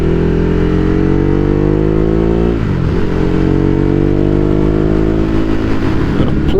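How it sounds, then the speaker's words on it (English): A Ducati Hypermotard 821 motorcycle with a loud aftermarket exhaust rides through village roads. The engine hums steadily at moderate revs, then dips and climbs again as the rider shifts, loud and close throughout with no talking. "especially with this exhaust. I don't know how much of it you can hear, but it is quite loud."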